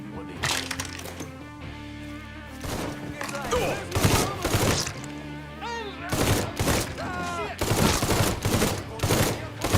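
Gunfire in Mafia 3 Definitive Edition, rapid sharp cracks in clustered volleys repeating across the stretch, loud and close, mixed with shouting voices between and under the shots.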